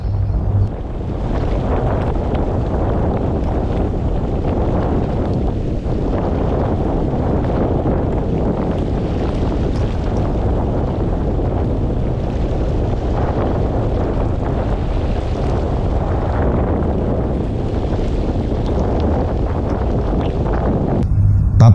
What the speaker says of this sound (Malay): Korang tengok ni macam mana dia kena dan betapa kuatnya angin masa tu.